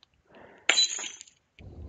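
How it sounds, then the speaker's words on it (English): A glass shatters loudly once, with a bright crash and tinkling fragments trailing off, set between quieter rustling noises before and after. "Maybe a glass sound will do."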